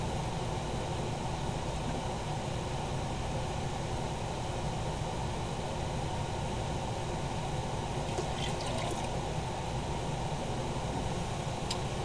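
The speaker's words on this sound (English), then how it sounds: "I warmed this up in some hot water so it will pour easier, because it's a real thick syrup" Thick malt syrup for home-brewed beer pours steadily in a close, continuous liquid rush, with a few brief clinks near the end.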